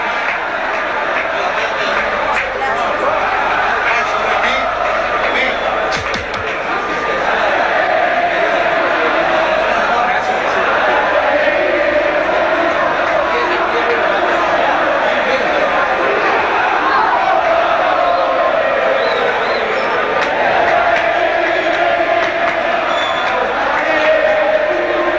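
Rugby crowd lingering in Tucuman, Argentina, twenty minutes after a 1991 match against the All Blacks, a dense continuous roar of chatter, shouting and chanting from a large gathering.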